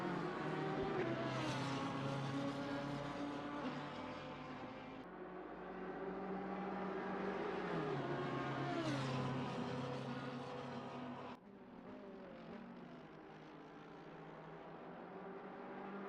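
A GT3 race car runs at full speed at Mount Panorama with a loud, high-revving engine whine that climbs and drops through gear changes, sustained close throughout.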